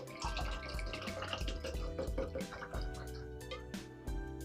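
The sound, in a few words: pouring a cup of Smirnoff caramel flavored vodka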